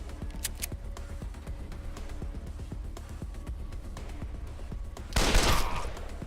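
Rapid burst of gunfire from a modded rifle in the post-apocalyptic tactical game Wasteland 2, a short loud broadband crack near the end after a stretch of quieter clicking and ambient tones.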